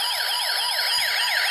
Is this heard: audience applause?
no